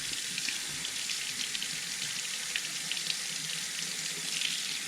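Water streams steadily from a Flow motion-sensing pull-down kitchen faucet into a sink, a continuous even hiss with no pauses and no voices.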